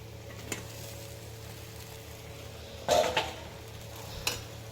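Pasta is added to a hot pan and stirred, giving a soft, low sizzle with a few scattered utensil clinks and one louder scrape partway through.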